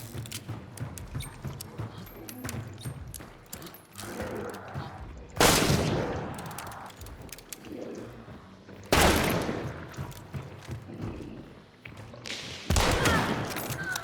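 Gunfire in the video game Hunt Showdown, likely from a Vetterli Deadeye rifle: three loud, sharp shots spaced a few seconds apart, ringing out over a busy game background with no talk.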